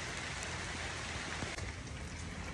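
Steady rain pattering on a surface, a dense continuous hiss of drops with no voices.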